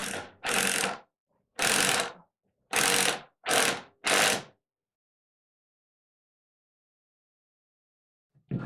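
Ratchet driving screws into a mission-style coffee table base kit, five crisp bursts of rapid clicking in quick succession, close and loud, followed by silence and a brief start of another click at the end.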